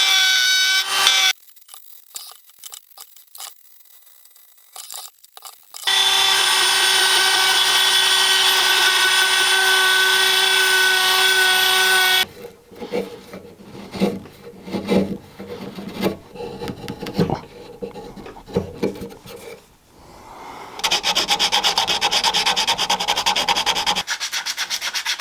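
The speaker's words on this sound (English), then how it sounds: "More sanding and material removal is needed to ensure that the handle fits in the hand comfortably." Sanding and rasping a wooden speargun handle by hand to shape the grip, with long stretches of steady loud abrasive rubbing broken by shorter irregular scraping strokes and brief pauses, close up and with no voices.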